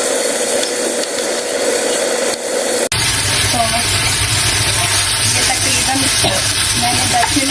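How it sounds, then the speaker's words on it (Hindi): Chicken hits about two tablespoons of hot oil in a pan on a stove, and a loud, dense, steady sizzle starts abruptly and keeps going after a quieter opening. "इसमें मैं डालूंगी तकरीबन 2 टेबलस्पून ऑयल, ठीक है। और इसमें हम ये चिकन डाल देंगे"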